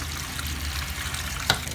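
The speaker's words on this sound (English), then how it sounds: "I'll just fill the cup up." Water pours into a cup while preparing fusilli and sauce, a steady close trickling rush with a small splash or clink near the end.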